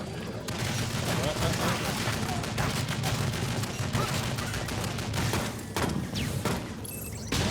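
Rapid, sustained gunfire from a turret in a video game rattles without a break, dense and loud across the whole stretch, with occasional sharper bursts standing out.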